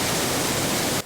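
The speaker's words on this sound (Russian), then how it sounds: "На обоих озерах водопады." A waterfall at a bright blue lake pours with a steady, dense, close hiss and rush of falling water, alone and unbroken until it cuts off abruptly at the end.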